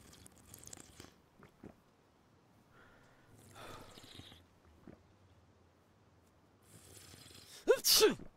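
A single sharp sneeze bursts out loudly near the end, following quiet, sparse talk and small scattered noises at low level throughout.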